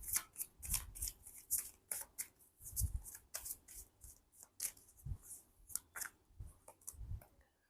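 Oracle cards from a romance angels deck being shuffled by hand, a steady run of soft crisp riffling flicks and slaps close by, with no talking over it.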